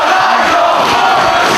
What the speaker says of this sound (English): The crowd here in Edison wants to see this title change